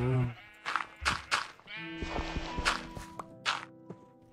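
Sheep in the Minecraft video game bleat several times in short bursts, mixed with soft footstep-like thuds and game sounds, close and fairly loud with no talking.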